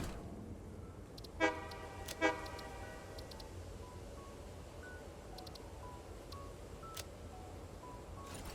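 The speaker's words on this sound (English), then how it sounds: "Do they just honk their horns all the time?" Train horns honk in the factory-building video game Satisfactory, giving two distinct short toots early on, then fainter tonal beeps and chirps over a steady low rumble of game ambience, with no talking.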